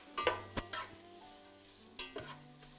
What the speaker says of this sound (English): First, add your onions. Ooh, we like a good sizzle.